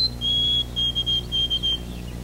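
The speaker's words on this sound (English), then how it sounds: "and the white-throated sparrow," White-throated sparrow song: several clear, steady whistled notes on nearly one pitch, each held a short while with brief gaps, moderately loud and alone.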